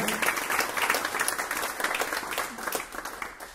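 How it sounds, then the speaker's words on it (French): Audience in a hall applauding during a green IT conference in Nantes, a continuous wash of many hands clapping at fairly even strength, dipping slightly toward the end, with no speech on top. "On peut les applaudir déjà à ce stade-là"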